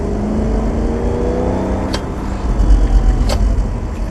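An M3 accelerating hard on the road while held in third gear, a steady, loud engine drone with rising harmonics that swells slightly near the end.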